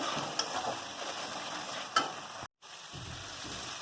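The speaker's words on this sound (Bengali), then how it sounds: "দিয়ে দেব তেজপাতা, দিয়ে দেব পেঁয়াজ কুচি, মশলা ভালো করে কষিয়ে নেব" Bay leaf, chopped onion and spices fry and sizzle in a pan for a duck curry, a steady close sizzle broken by a couple of sharp stirring scrapes and one brief dropout.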